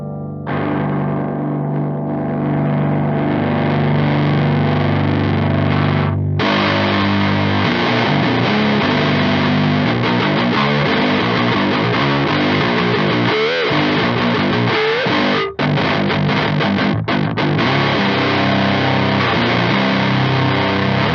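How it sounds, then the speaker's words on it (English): Electric guitar played through an engaged Biyang DS-12 distortion pedal, giving a loud, continuous, heavily saturated tone with sustained chords and brief gaps near the end. "there's definitely a click point there where, if you can hear it, where it kind of engages the distortion."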